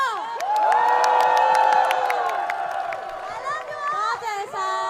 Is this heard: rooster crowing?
no